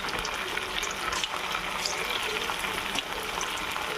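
Chicken pakodi pieces fry in hot oil in a kadai, giving a steady bubbling sizzle with faint crackles throughout and no speech.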